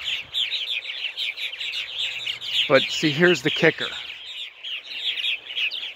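Purple martin colony calling, a steady run of busy chirps and gurgling twitters from many birds, with someone talking briefly over it midway.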